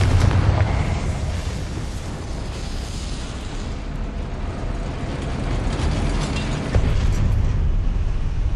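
Confringo fire spell blasts in the Hogwarts Legacy video game, a dense, continuous roar of explosive rumble and crackling debris that stays loud and sustained throughout, with mechanical creaks mixed in and a fresh burst near the end.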